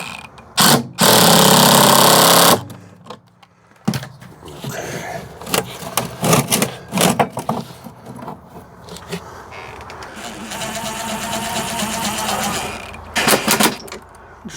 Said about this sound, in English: Just tightening down our holder bolts